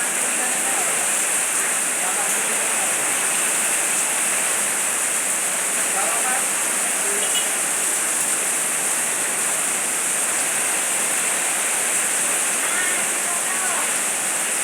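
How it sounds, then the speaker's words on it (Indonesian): Heavy rain pours at an outdoor restaurant during strong wind, making a loud, dense, unbroken hiss of water that stays steady throughout with no breaks. "Ini saudara sekalian, kita nikmati hujan."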